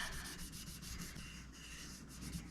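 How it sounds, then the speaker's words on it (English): A tennis ball rubbing a stencil down onto a curved glass mug, a soft continuous scrubbing close by at low volume with no talking. "you just use that tennis ball to rub it down good"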